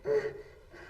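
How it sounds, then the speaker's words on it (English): A man's heavy breathing, one sharp gasping inhale followed by quieter, ragged breaths, close and alone in a tense indoor scene. "That's his breathing."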